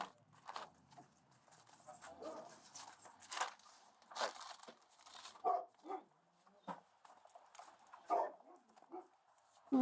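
Several distressed dogs bark and whine in a busy, cluttered mix of yelps and scuffling, with a few louder barks standing out toward the end.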